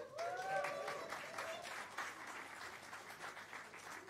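A church congregation claps together in steady applause that fades gradually, with a voice briefly audible near the start.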